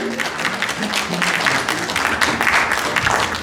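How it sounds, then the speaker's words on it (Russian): Audience at a Palestinian culture day event breaking into sustained applause, dense steady clapping from a crowd filling the whole stretch at a fairly loud level. "Аплодисменты Елене Светлой"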